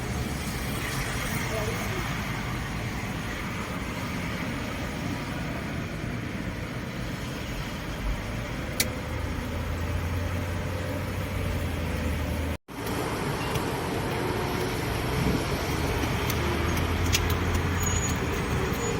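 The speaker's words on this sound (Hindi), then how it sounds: "गाड़ी बहुत स्लो चल रही है।" A car creeping slowly through heavy traffic, with a steady low road and engine rumble throughout and a brief dropout midway.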